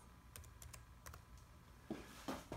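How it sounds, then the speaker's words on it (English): Keys tapped on a computer keyboard while entering a short word into a text box in CNC engraving software: a few light, scattered clicks, then three firmer, closer keystrokes near the end, with no voice. "we're gonna type in test."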